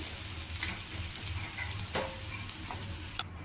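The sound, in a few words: carrots and moong dal frying in a pan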